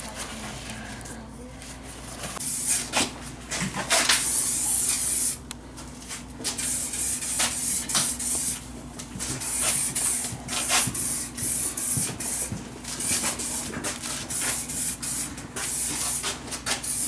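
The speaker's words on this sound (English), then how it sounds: "just gonna clean them off and wipe them down and spray some paint." Repeated bursts of spray-can hissing as paint and adhesion promoter are sprayed on car parts, some short and some longer, come close and loud with brief pauses between them.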